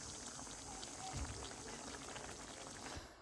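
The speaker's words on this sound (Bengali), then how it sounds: "মাংসগুলো কিন্তু সুন্দরভাবে কষতেছে" Fried meat braising in a pan, giving a steady close bubbling simmer with soft crackle throughout, no talk over it.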